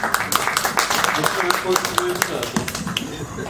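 Scattered audience clapping at a Turkish poetry recital, with sharp individual claps in an uneven rhythm mixed with murmuring voices and talk underneath.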